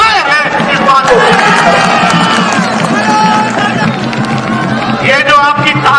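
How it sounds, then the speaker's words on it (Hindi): A large crowd at a political rally in Bardhaman, West Bengal roars and claps in a loud, unbroken wall of noise, with shouting and cheering mixed through it. "ये जो आपकी तालियां हैं, ये जो आपकी गड़गड़ाहट है"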